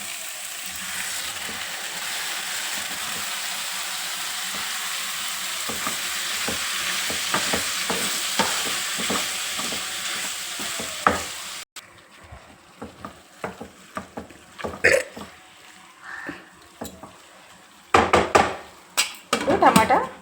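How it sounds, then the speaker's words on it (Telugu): Chopped tomato pieces sizzle in a pan of fenugreek curry with a steady close frying hiss, then a spoon scrapes and clatters against the pot as the mixture is stirred in irregular bursts. "ఇప్పుడు కట్ చేసుకున్న టమాటా ముక్కలు ఇద్దాం"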